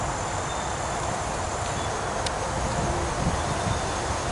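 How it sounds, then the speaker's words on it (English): Steady wind blows through trees in a local park, making a continuous broadband rush of rustling leaves with no distinct events, loud and uninterrupted throughout. "Too much wind."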